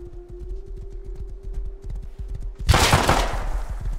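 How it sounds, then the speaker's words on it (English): Horse hooves clop in a steady rapid rhythm in the survival game Rust, drawing closer, before a sudden burst of loud gunfire breaks out over the galloping near the end. "he's coming this way on a horse"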